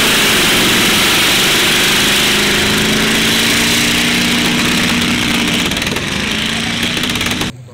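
A 4.2-litre, roughly 100-horsepower engine in a beach race vehicle at the Normandy Beach Race drones loudly and steadily at high revs on a straight, then cuts off abruptly at the end.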